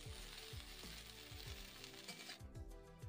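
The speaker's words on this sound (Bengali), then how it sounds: "ভাজা হয়ে গেছিলো, তেলের ওপরে দিলাম শুকনো লঙ্কা আর বিন কড়াই আর আলুটা তুলে দেব" Beans, cauliflower and potatoes fry in hot oil with dried chillies in a pan, a steady close sizzle with repeated soft stirring scrapes at a regular rhythm, no voices.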